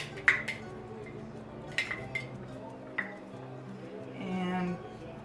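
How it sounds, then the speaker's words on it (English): A spoon clinks against a medium bowl while cream cheese dip ingredients are mixed, a few sharp taps followed by a softer, steady stirring sound at close range. "just mix all this in a medium bowl"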